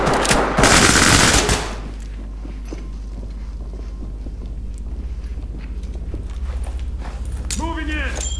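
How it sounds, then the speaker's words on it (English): In the tactical shooter game Ready or Not, a loud close burst from a sting grenade and gunfire opens the moment, then fades into quieter shuffling footsteps and movement, with players talking throughout. "Move in, toss the sting grenade and clear."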